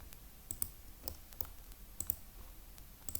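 Computer mouse buttons clicking while drawing in a CAD program, a string of sharp, faint, close clicks spaced irregularly over a quiet background.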